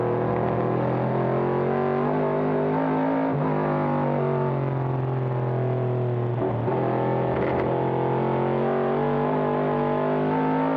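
A 1970 Ford Mustang Boss 302 race car, number 61, at a vintage road race reunion, gives a loud, sustained V8 engine roar with strong, steady harmonic drone and slight shifts in pitch as it powers along close by.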